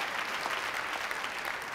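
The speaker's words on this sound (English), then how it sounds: "There he is, round of applause." Audience applause at a corporate presentation, a short, even wash of many hands clapping from a seated crowd with no voices on top.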